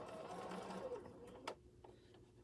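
A sewing machine stitches in a fast, faint mechanical whir, followed by a sharp click as it stops and a few small taps after.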